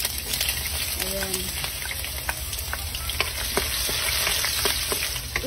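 Garlic sautés in oil in a pan for sinigang na bangus, a steady crackling sizzle with small pops and stirring scrapes throughout.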